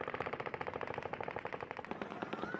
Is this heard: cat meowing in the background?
no